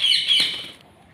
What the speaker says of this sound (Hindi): इस कबूतर को मैं उड़ा रहा हूँ।